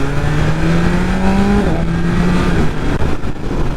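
A 2022 BMW M1000RR superbike engine revs steadily and loud up close, its tone held level before dropping slightly as the pit lane limiter is released, with no talk.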